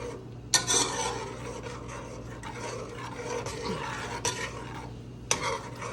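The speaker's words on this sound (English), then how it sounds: "I'm just gonna stir it." A spoon scrapes and stirs ground pepper and ginger in a pot, making a soft, continuous rasping with a few sharper clinks against the metal and no voices.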